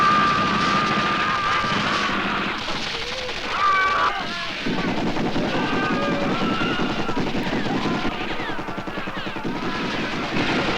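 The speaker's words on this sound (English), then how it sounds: "somehow without killing her in this reckless spray of gunfire" Reckless automatic gunfire sprays during a jungle rescue from guerrillas in the 1988 action film Robowar. It mixes with shouting, music and explosion-like booms in a loud, chaotic battle soundtrack.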